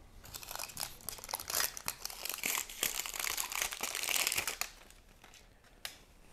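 Paper packaging is unwrapped from a block of hard paste beeswax, a close, continuous crinkling and crumpling with sharp crackles that fades near the end.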